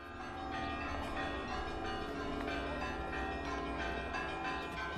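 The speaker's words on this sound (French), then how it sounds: "Une volée de cloches accueille les troupes allemandes." Several church bells peal together continuously in Riga, Latvia, greeting arriving German troops, a dense ringing clangor heard from a moderate distance, without voices.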